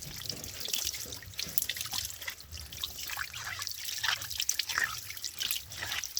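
Arrowroot tubers being washed under running water, a steady close trickle and dribble of flowing water with soft drips, faint and continuous with no talk.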